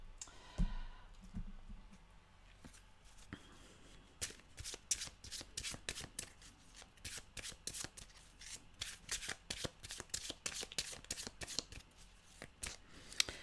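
Oracle cards are shuffled close up in a quiet room, a long run of quick crisp riffling clicks and flutters that carries on steadily, with no talking.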